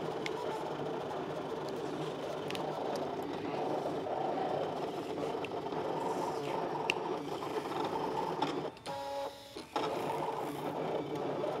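An electronic cutting machine slices a fabric appliqué for a sweater set, running with a steady, close mechanical whir and rhythmic chatter that briefly dips near the end before resuming.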